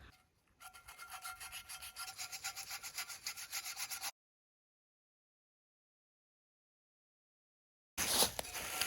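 Scouring rush horsetail stems scrub rust off a pan in quick, rhythmic rasping strokes for about three seconds. A long silence follows, then a short burst of scraping at the end.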